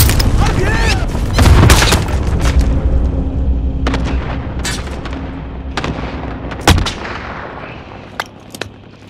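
Airstrike explosions in Call of Duty: Modern Warfare, a series of loud, booming blasts and gunfire cracks, dense at first and then spaced out, with a voice speaking between them.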